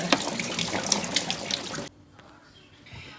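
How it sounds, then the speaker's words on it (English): Running tap water pours over chickpeas in a colander, a steady splashing rush that stops abruptly partway through, leaving a quiet room with faint residual drips. "I'm just rinsing the chickpeas in a colander."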